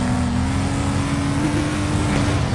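A car engine in the Demolition Derby 3 video game drones loud and steady, a continuous close roar held without a break for the whole stretch, with no voices over it.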